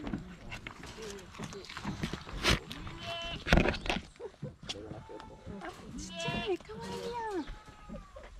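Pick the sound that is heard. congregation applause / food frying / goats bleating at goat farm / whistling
goats bleating at goat farm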